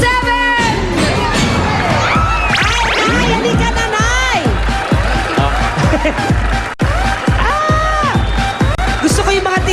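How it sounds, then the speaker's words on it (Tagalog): A game show crowd shrieks and cheers loudly throughout, with excited shouting, whoops and a voice calling out over the continuous roar. "Gusto ko yung mga tili ngayon."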